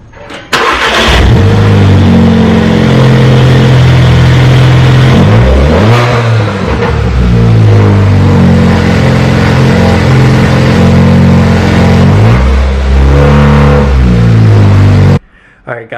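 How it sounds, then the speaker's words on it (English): A Volkswagen MK6 GLI fitted with a cold air intake cranks and fires up, then settles into idle punctuated by several sharp throttle blips and revs, loud and close, before cutting off near the end. "I'm gonna start it up, kind of hear what it sounds like"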